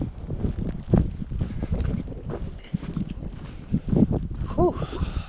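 Gusty cold wind buffets the microphone on a Pacific Crest Trail hike through Oregon, a rough continuous rumble that swells and eases throughout, with a brief tonal whistle near the end.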